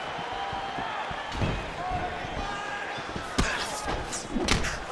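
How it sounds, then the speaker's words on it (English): Punches thud against the body in a UFC 5 fight between Bruce Lee and John Wick, a few sharp slamming impacts spaced over a few seconds over steady game crowd ambience, with commentary talk running underneath. "Nice body shot there."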